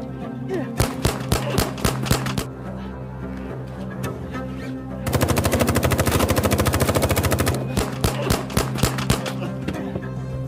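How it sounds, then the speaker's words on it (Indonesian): An action-film gunfight: sharp single gunshots give way to a long, dense burst of rapid machine-gun fire, then more scattered shots, all loud and close. "Kemudian terjadilah baku tembak di antara mereka semua."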